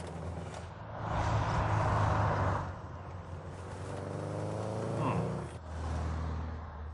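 A Lancia rally car engine in The Grand Tour Game rises and falls through a corner, swelling to a loud rasp, easing off, then revving again, with no talking.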